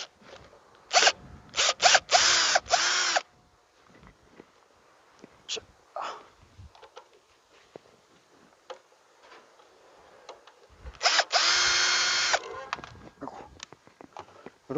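Power driver backing two screws out of the housing of a high-speed cutoff saw, short whirring bursts separated by quiet gaps and small clicks, close and moderately loud.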